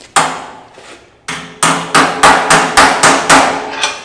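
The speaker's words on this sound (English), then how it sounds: "start hammering that flange in" A hammer strikes a metal flange held over a dolly during front-end bodywork on a Lancia Zagato, roughly ten sharp, ringing blows, loud and close, with a pause after the first few before a quicker steady run.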